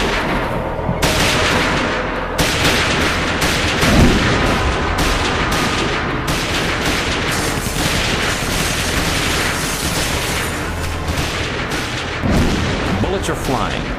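Dense, continuous gunfire with overlapping bursts and heavy booms fills a gangster shootout reenactment, loud and close throughout, with voices buried beneath the shooting.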